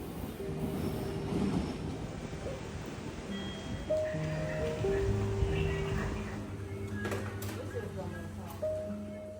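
A train moves through a station in Japan on the way to Kamakura, with rumbling wheels, faint squeals and sustained electric tones, while a voice talks quietly underneath.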